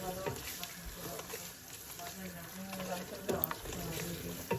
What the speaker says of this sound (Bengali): এখন আমি এই মশলাটাকে কষিয়ে নেব